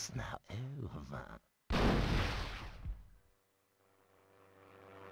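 A single loud gunshot blast rings out in the Hogs of War video game, following a moment of speech and decaying into a fading rumble and faint tones.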